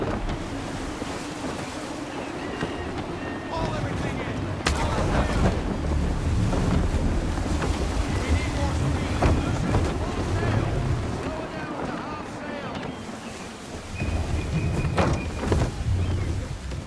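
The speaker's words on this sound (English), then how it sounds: "Gusty winds can be difficult to manage." Gusty wind sweeps over open sea aboard a sailing ship in Assassin's Creed 3, a steady broadband rush with swelling surges and wave wash, with a voice speaking briefly beneath it.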